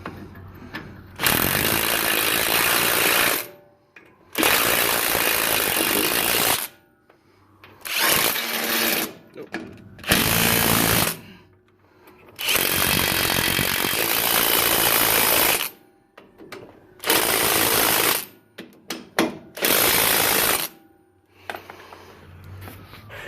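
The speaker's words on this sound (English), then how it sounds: "we got the new steering gearbox in there, so he's gonna go ahead and impact them things in" Impact wrench driving in the bolts of a new steering gearbox on a 1996 Ford F150, several loud, close bursts of hammering whir separated by short pauses and quiet gaps, no talking.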